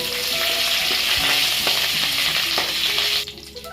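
Green chillies and curry leaves sizzling in oil on a low flame for beetroot palya, a loud close steady hiss with faint stirring clicks, cut off abruptly at the end.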